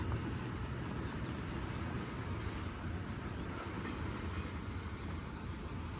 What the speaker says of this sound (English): This is also the fair train today.